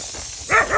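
A dog barks twice in quick succession near a rattlesnake removal, short sharp woofs over low background noise, with nobody talking.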